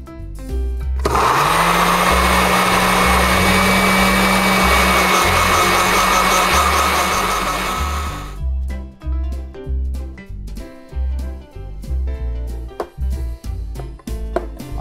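A blender roars loudly at high speed for several seconds while mixing in coconut oil, then cuts out, leaving music playing in the background.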